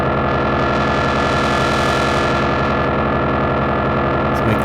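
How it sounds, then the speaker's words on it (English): A Polyend Play+ synth sequence with a fast filter envelope, attack and decay turned off, plays as a dense, loud, continuous buzzing tone with steady harmonics and a slight distorted edge throughout. "See what filter envelope sounds like."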